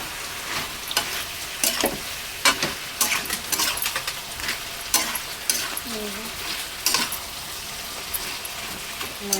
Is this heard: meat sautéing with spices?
yes